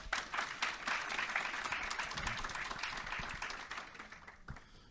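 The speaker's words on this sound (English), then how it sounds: "you should give yourself a round of applause" An audience applauds steadily at a Pennsylvania gathering, a broad wash of many clapping hands that holds for several seconds before thinning out near the end, with no speech over it.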